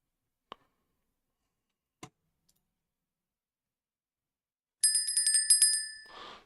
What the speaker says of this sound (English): Sorry about all those bells, guys.